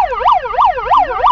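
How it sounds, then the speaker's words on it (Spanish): A megaphone's built-in siren wails in a rapid rising-and-falling sweep, about four cycles in quick succession, loud and close with no talk over it. "Pon la sirena aquí."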